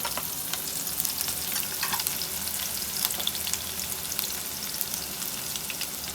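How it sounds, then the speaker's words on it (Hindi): Finely chopped onion drops into hot oil in a pan and sizzles and crackles steadily, a dense, close frying hiss with no talking. "अब हम इसमें ये 1 प्याज जो हमने काटी थी बारीक बारीक,"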